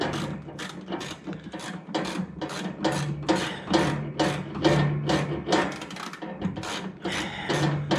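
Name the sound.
ratchet tightening nuts with a 7/16 socket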